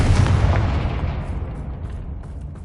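A Confringo fire blast spell in Hogwarts Legacy bursts with a heavy, booming explosion up front, then its rumbling roar fades away steadily over a couple of seconds.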